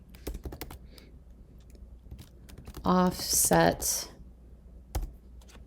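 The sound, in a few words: typing on a computer keyboard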